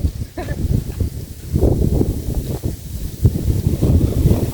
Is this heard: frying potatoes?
no